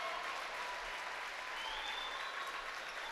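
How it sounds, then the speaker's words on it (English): Steady applause from basketball fans and a student section in a high school gym as seniors leave their last home game, a warm, even clapping that carries throughout without voices on top. "giving these seniors an opportunity to get a nice hand from the student section and the fans here at the end of their last game on their home court"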